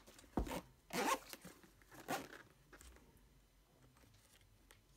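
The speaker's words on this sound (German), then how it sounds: "Der eigentliche Reißverschlusshaken, den man zieht." A zipper on a grey Zelda-themed BigBen Nintendo Switch travel case is pulled in a few short, close rasping strokes, followed by quieter rustling handling noise.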